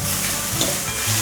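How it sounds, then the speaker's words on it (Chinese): Fresh shiitake mushrooms stir-fried with carrot and fried tofu skin in a pan, a steady close sizzle with soft scraping stirs throughout, no voices. "继续翻炒，炒至香菇变软。"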